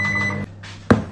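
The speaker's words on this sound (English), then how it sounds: "we are going to melt it gradually in the microwave" A microwave oven heats cream and chocolate: a steady hum runs for about half a second and stops, then a soft thud and a click as the door comes open, with no talking.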